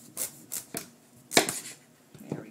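A knife cutting a butternut squash in half on a board, several separate close, crisp knocks and chops spaced unevenly, with a brief scraping rustle between them.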